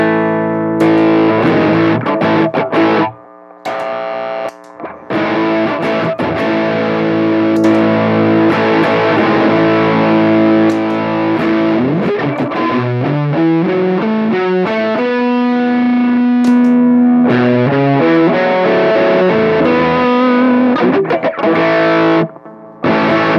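Electric guitar played through a Walrus Audio Iron Horse distortion pedal on a Rat-style setting, loud and gritty, with sustained distorted chords and single-note bends and slides, heard alone with a few short gaps.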